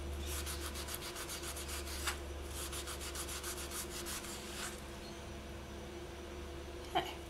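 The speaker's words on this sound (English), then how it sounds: "just give the edges a light sand as well, just to get rid of any sharp edges that might be there" Soft, rhythmic rubbing strokes of hand sanding along the edges of a polymer clay piece, quiet and close, in short repeated bursts with pauses.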